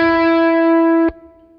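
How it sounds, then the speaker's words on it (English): A single sustained electric guitar note runs through a tape-style delay pedal, ringing loud and steady before being cut off sharply, leaving a faint wobbling echo tail; no voices. "in the tape setting, you can hear it modulate, so you can actually hear the signal. The echo actually changing pitch. It wobbles a little bit."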